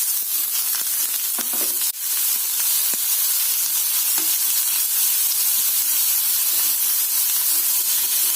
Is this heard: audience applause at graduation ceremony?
no